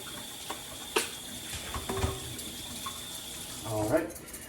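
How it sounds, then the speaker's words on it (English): Mixer beaters rinsed under a running kitchen tap, with a faint, thin stream of water and a few light knocks of metal against the sink. "I'm gonna rinse off my beaters before the egg sticks to them"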